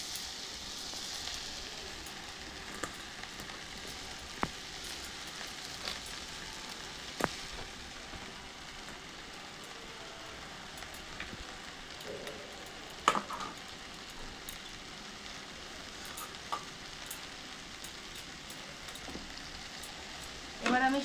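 Vermicelli with vegetables frying in a pan, a soft, low sizzle with occasional scrapes and knocks of a spoon as it is stirred, faint and fairly distant, with a sharper clatter at the very end.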